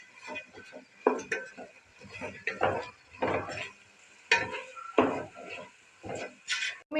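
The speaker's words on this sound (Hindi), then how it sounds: "गाजर ऐड करेंगे। अच्छे से मिक्स करेंगे।" Carrots are stirred into vegetable rice frying in a pan, with irregular scraping and clacking of a utensil against the pan over a faint sizzle and no talk.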